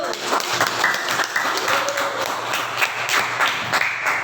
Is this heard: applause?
yes